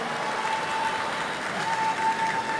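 A badminton arena crowd claps and cheers continuously during an MVP Cup men's singles match, dense steady applause with a faint whistle tone threading through.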